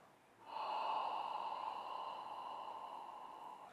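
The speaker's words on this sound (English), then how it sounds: "Inhale, exhale" A single long, steady breath during a qigong exercise, close and clear. It begins abruptly, carries a faint whistling, airy tone and fades slowly, with no speech over it.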